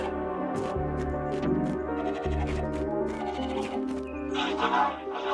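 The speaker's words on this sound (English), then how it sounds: "When computers do go to sleep, do they dream of digital sheep?" Synthesized digital sheep bleats from the video game Narita Boy, layered over a dense, steady electronic music bed, with a brighter burst of tones near the end.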